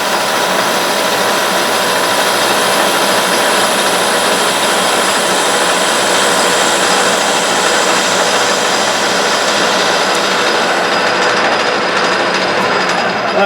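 A metal lathe cutting stainless steel at 840 RPM gives a loud, continuous harsh grinding and whirring that holds steady throughout, close to the microphone with no talking.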